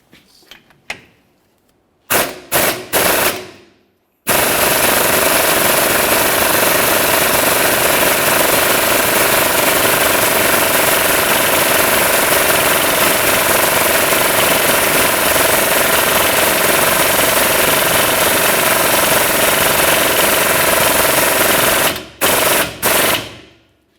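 A bushing is pressed through the rear leaf spring of a 2001-2005 Ford Explorer Sport Trac, giving a few short mechanical bursts and then a loud, steady, grinding roar that runs close and unbroken for most of the span before cutting off.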